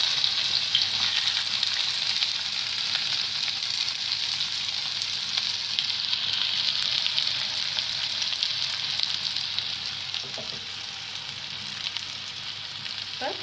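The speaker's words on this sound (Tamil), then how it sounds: "நம்ம ஆயில் ஊற்றி கொஞ்சம் சூடானோடனே வெங்காயம் போடுவோம்." Onions fry in hot oil with a steady, dense crackling hiss that holds close and loud, easing slightly toward the end, with a couple of faint clinks near the close.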